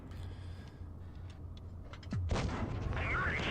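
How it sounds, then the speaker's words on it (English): Tank cannon fire in a tank video game as a crew exchanges fire with two enemy heavy tanks and a Centurion, a loud booming shot breaking over a steady rumbling engine drone, with the din staying heavy afterward. "And we started exchanging fire with 2 enemy heavies and a Centurion."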